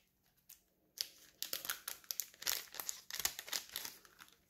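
Crinkly plastic wrapper of a trading card pack being crumpled and tugged, a run of sharp rustling bursts after a quiet start, close by.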